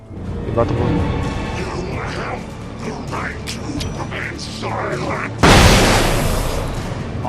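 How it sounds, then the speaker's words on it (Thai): Flashbang grenade explosion in the video game Alan Wake, a sudden loud burst followed by a sustained ringing hiss, after game dialogue and talking over it. "อ๋อมันคือระเบิดแฟลชนี่นะครับ"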